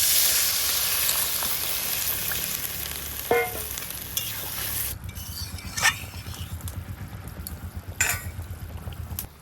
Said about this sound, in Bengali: এই দেখুন ঝোলটা সুন্দর করে আলুর সঙ্গে ফুটিয়ে নিয়েছি